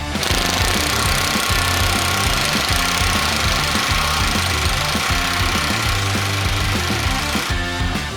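An impact wrench drives a bolt home without oil, hammering out a loud, continuous rattling burst that runs unbroken for about eight seconds.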